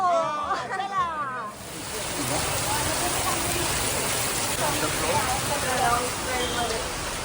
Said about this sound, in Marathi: पाऊस पडतोय थोडा